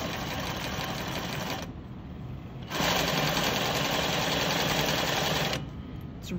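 An industrial sewing machine stitches a centered zipper over pins, running in two loud steady bursts with a brief pause between them and no speech.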